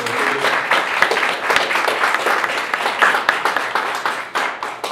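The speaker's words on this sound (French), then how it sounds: "Je pense qu'on peut les applaudir pour les remercier." An audience claps steadily for several seconds, many hands producing a dense, even applause throughout.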